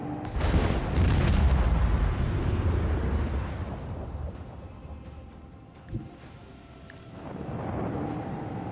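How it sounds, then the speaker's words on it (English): A sonic torpedo explosion in Warhammer 40,000: Rogue Trader, a deep rumbling boom that swells and slowly fades over several seconds, followed by a short sharp pop and a second lower surge of rumble. "Adara sonic torpedoes. Yeah. Kaboom."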